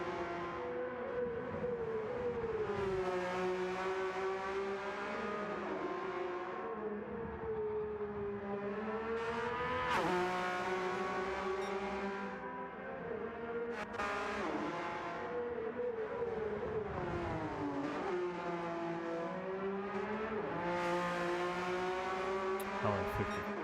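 Race cars lapping the Nürburgring in a racing sim game, GTE-class machines, engines droning loud and continuous with rising and falling revs through gear changes, a sharp burst around the midpoint, no talk.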